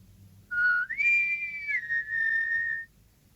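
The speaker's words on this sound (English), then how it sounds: "If you want the wind, you must whistle for the wind." One person whistles a short clear phrase close by: a low opening note glides upward, holds, then drops slightly into a long steady tone that stops abruptly, with only faint room hum behind.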